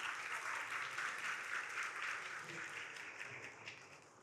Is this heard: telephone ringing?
no